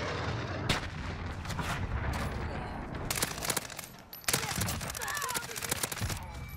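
Gunfire from the video game Call of Duty Modern Warfare, with rapid bursts of automatic weapon shots and single cracks coming in uneven clusters, some sharp and close, others duller, over a low game-ambience bed.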